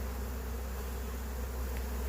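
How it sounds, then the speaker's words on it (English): A honeybee swarm landing on a redwood tree near a hive, giving a steady, faint, continuous buzzing drone with no pauses or voices. "Bees decided to swarm today."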